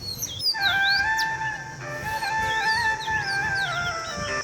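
Several birds call and chirp together on a village rooftop terrace in the morning, with overlapping whistled notes and trills, fairly close and steady throughout.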